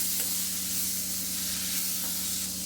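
Boiled peas fry in a pan with oil for a cabbage and peas curry, a steady, soft sizzle with faint stirring, and nobody speaks.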